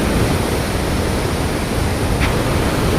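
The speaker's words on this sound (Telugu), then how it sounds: "14 గేట్లు ఎత్తారు, దాన్ని దంచి కొడుతుంది వాటర్" Water roaring through the 14 opened gates of the Pulichintala dam, a loud, steady, dense rush that fills the whole scene without pause.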